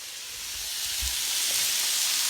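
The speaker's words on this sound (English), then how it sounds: "So I'm just going to stir fry this." Onions, peppers and mushrooms stir frying, a soft steady sizzle with a few faint stirring scrapes and bumps, gradually growing a little louder, with no talk.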